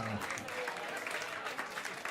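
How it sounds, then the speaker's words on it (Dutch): Applause for a group of women in dungarees at a Dutch community gathering, steady crowd clapping throughout, fairly faint and distant, with some talk mixed in. "Ja, applaus voor de dames."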